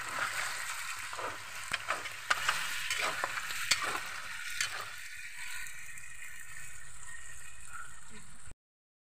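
A utensil stirs beef skin and bone stew (balbacua) in a pot, giving a steady sizzling wash with scraping clicks and knocks against the pot, close and continuous.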